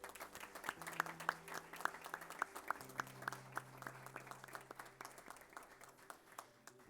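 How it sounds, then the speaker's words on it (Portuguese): Applause during a solemn council session awarding an honorary citizenship title: distinct, fairly regular handclaps from a modest crowd, loud and crisp, over a faint sustained hum in the room. "Uma salva de palmas."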